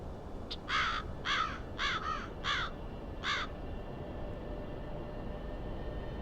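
Birds in a nest within the Black Mirror 2 point-and-click game, giving a run of about six harsh crow-like caws in quick succession over a low steady background hum, moderately loud and close, with no pecking taps evident.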